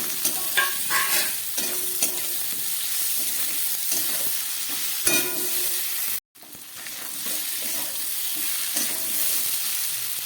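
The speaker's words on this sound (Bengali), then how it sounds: "এবারে ভেজে রাখা আলু পটলটাও দিয়ে দিচ্ছি।" Fried potatoes and pointed gourd being stirred into spices in a hot pan, steady close sizzling with scraping stirs throughout and a brief dropout midway.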